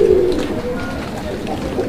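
Desi Raj Golla pigeon cooing loudly and close, a steady throaty call over background murmur and clapping-like noise.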